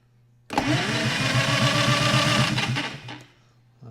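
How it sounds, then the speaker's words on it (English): A rebuilt John Deere 70 tractor engine cranks over on the starter in a loud, rapid mechanical chugging that runs about three seconds, then winds down and stops, close by with no one talking. "I'm going to start cranking this a little bit, see if we still build some oil pressure"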